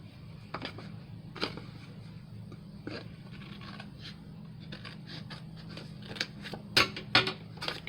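Scissors cutting through card stock for a bench fold card, a handful of quiet crisp snips and slices spaced irregularly over a low steady background hum, growing slightly louder toward the end.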